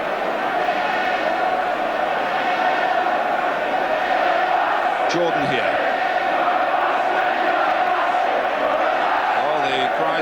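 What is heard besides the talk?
football crowd cheering and shouting at Ipswich v Man Utd match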